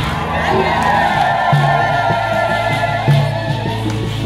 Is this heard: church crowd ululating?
yes